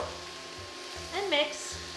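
Tomatoes sizzle and fry in a pan for Moroccan lentil pilaf, a steady close crackle with a brief scrape of stirring partway through and no talk.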